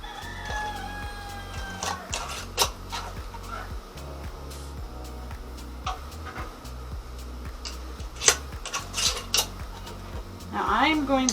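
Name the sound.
glass canning jars clinking in a pot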